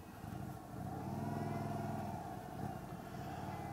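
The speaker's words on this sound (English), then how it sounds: "we are off on the 2023 Indian Motorcycle Sport Chief in ruby smoke" A 2023 Indian Sport Chief motorcycle in ruby smoke pulling away, its engine revving into a steady, sustained mid-pitched drone that holds fairly constant without any talk.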